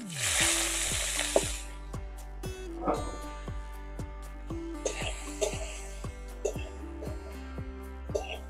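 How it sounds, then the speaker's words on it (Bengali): Freshwater snails dropped into hot oil give a strong, close sizzle that swells at the start and again midway, with stirring sounds over a steady tonal hum in the background. "এরপর গুগলিগুলোও দিয়ে দিচ্ছি তেলের উপরে।"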